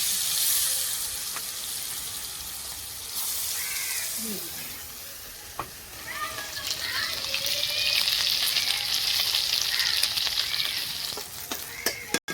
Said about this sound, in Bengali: দেখো আমি মাছটা দিয়ে দিচ্ছি, কিন্তু মাছগুলোকে এক এক করে দিয়ে দিচ্ছি।